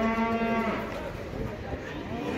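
At a livestock market in Taraz, cattle give a close, drawn-out low moo that fades into the murmur and rustle of the busy market.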